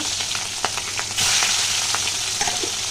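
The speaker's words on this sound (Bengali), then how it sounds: "এই দেখো আর একটা কড়া বসিয়েছি চিংড়ি মাছটা।" Loud, steady sizzling of prawns frying in hot oil, with crackling pops scattered throughout and a surge of hissing partway through.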